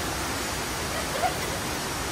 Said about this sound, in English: The water falling there.